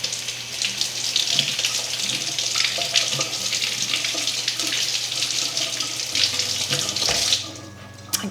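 Tap water runs steadily into a sink while an orange is rinsed, a continuous close hiss with a low hum beneath, cutting off abruptly near the end.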